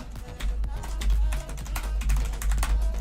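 Fingers type quickly on a computer keyboard in a terminal session, producing rapid close clicks and taps in irregular bursts over a low background hum.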